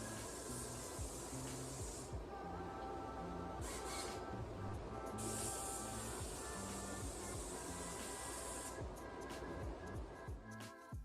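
A spray gun lays a medium-wet coat of epoxy primer over fiberglass filler on restoration bodywork: quiet, intermittent bursts of airy hiss over a low, steady mechanical hum.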